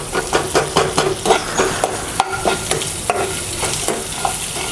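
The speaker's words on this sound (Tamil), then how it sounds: "இதெல்லாம் சேர்த்து நல்லா வதக்கிக்குங்க." Large onions are stirred and sautéed in a pan for drumstick leaf soup, a steady close sizzle broken by repeated scraping strokes of a spoon against the pan.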